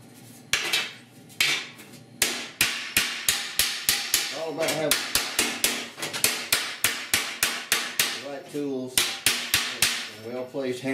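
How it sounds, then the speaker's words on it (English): Rapid, sharp metallic hammer blows straightening a dented 1978 Ford F150 disk brake duct, ringing strikes in a steady rhythm with brief pauses, close and loud. "Well-placed hammer plate."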